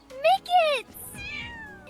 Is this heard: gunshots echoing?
no